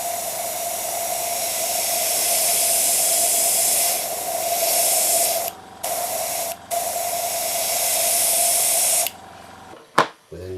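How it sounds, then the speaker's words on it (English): An airbrush cleaned of enamel and acrylic paint sprays in a loud steady hiss during a test, broken by two brief pauses, then stops; a short click or pop follows near the end. "at this point we can actually test it and test the spray pan and make sure it's working"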